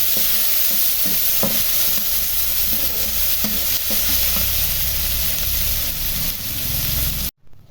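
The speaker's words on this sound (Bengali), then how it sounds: "এখন দিয়ে দিলাম পেঁয়াজ রসুন আলু, এগুলো সুন্দরভাবে ভেজে নেব।" Onion, garlic and potato fry in a pan with a loud, continuous sizzle while being stirred, occasional scraping strokes cutting through the hiss, close up with no talk, then a brief drop to silence near the end.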